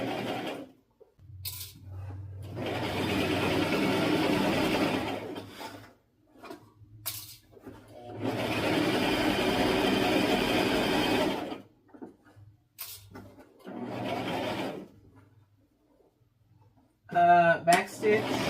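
A sewing machine stitches a dress in three long bursts of steady mechanical whirring, separated by pauses where a person talks and handles the fabric.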